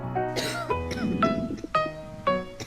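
A character in a zombie checkpoint video game coughs several times in a row, each rough, voiced hack close and clear, with short gaps between them.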